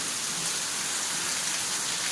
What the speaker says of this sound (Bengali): ঝমঝমে বৃষ্টি পড়ছে, বৃষ্টির আওয়াজটা খুব সুন্দর লাগে, তাই না?